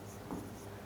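Brief scratchy strokes of writing math on a board, short and soft, a couple of faint marks within one second.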